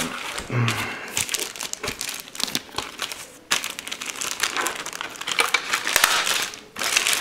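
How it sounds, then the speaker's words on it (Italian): A transparent plastic bag crinkling and rustling close up while a keyboard is unpacked, loud continuous crackles with sharp bursts and brief pauses, no talking. "tutto quanto è alloggiata in una busta di plastica trasparente"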